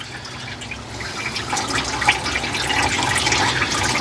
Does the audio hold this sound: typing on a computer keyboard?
no